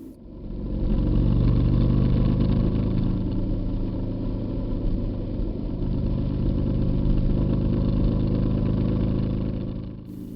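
Harley-Davidson motorcycle cruising along a road through the Dandenong Ranges near Melbourne, a steady, loud, continuous low engine drone with wind rush, fading in and out at the edges and with no talk.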